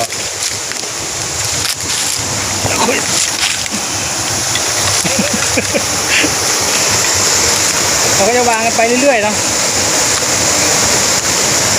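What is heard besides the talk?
waterfall water rushing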